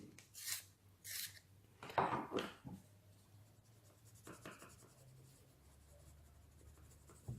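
Prismacolor colored pencils scratch across paper while a face is drawn, quiet close strokes in short bursts, then softer, slower rubbing.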